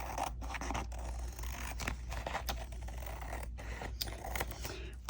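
Scissors trim wet paper scraps for ephemera, sounding as continuous close scraping and snipping with a steady rustle throughout.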